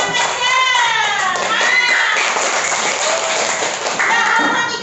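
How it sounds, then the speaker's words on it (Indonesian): Classroom applause for a student group, with children clapping under loud overlapping chatter and raised young voices. "Kasih tepuk tangan buat kelompok 2"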